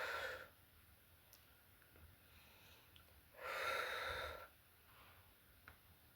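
Breathy exhalations during a pilates exercise, two soft airy bursts close to the microphone with quiet pauses between them.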